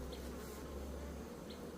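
Honeybees buzz inside a beehive during a September inspection, a dense, steady hum close by, with an occasional single bee flying past a little louder.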